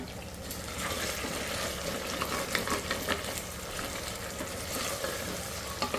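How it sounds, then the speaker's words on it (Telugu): Lentils frying in a cooker with cumin, fenugreek seeds and tamarind, giving a continuous close sizzle dotted with small pops and crackles for several seconds, no talking. "బాగా వేగిపోయింది పప్పు కూడా."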